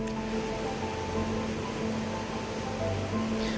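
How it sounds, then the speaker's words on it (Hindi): Water gushes in a steady, dense roar from the discharge gates of Kanke Dam, filled by heavy rain, with a constant rushing texture and no voices. "ऊंचाई से गिरती पानी की तेज धार।"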